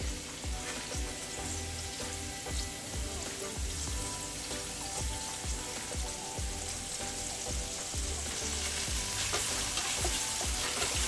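Onions and garlic fry in oil in a soft, continuous sizzle, with regular stirring knocks and scrapes of a utensil in the pan, close but fairly quiet.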